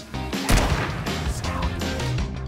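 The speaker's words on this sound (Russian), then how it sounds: "пока она опускается, сделайте один прицельный выстрел" A single loud, sharp gunshot from a video game bursts out near the half-second mark, then rings off into a sustained, rumbling game soundscape that fills the rest of the moment.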